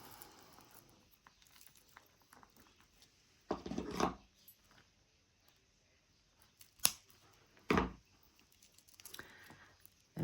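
A few short snips of small scissors cut a bracelet's thread tail in a quiet room, with sparse crisp clicks and soft handling rustles between the separate cuts.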